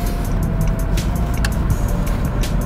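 A Honda BR-V with a serviced automatic transmission accelerating on a road test, a dense steady engine and road rumble with tyre noise from inside the cabin, no talking.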